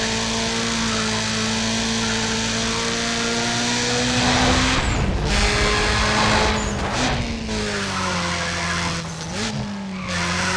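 A modded Rio's Evo in Need for Speed ProStreet roars with a loud, steady engine drone, then breaks into long tire squeals and skids with gear-change dips, all near and without talk.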